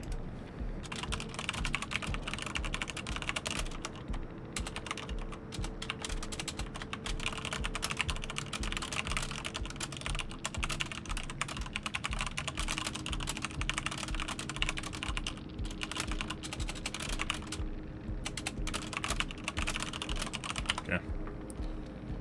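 Rapid, continuous clatter of a computer keyboard being typed on, close and steady for the whole stretch with only brief pauses, a low hum beneath and faint talk now and then.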